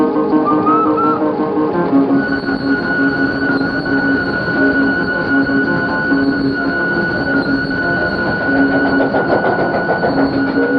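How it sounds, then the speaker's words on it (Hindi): A train pulls away from a station in an old Bollywood film, its wagons rumbling and clattering steadily with faint wheel squeals and a high whine held throughout, loud and close. "गाड़ी चली गई।"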